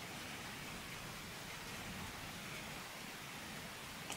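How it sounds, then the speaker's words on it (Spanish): Light rain is just beginning to fall, a faint, steady hiss of drops that holds evenly throughout with no voices over it. "Está empezando a llover."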